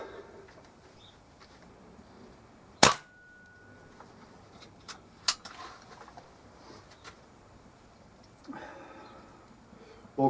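A Kral NP500 air rifle fires a single pellet outdoors in the cold, one sharp, loud crack followed by faint clicks and handling noises from the single shot tray.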